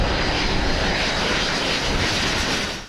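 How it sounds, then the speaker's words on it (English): Loud, steady roar of an arriving airplane descending before landing, a broad continuous engine rush that stays close and even, then fades slightly at the end. "arriving aircraft perform a step descent, reducing altitude and plateauing a number of times before landing"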